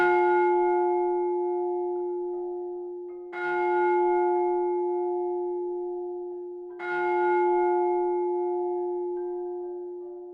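A deep church-style bell tolls three times at slow, even intervals, each strike ringing out and fading into a long sustained hum, used as an eerie effect in a creepy horror tale.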